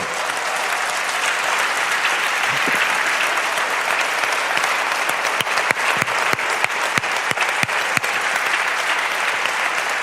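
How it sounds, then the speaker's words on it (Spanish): Sustained applause from a church congregation fills the space, steady and dense, with sharper individual claps standing out toward the end. "Dale un aplauso al que vive para siempre."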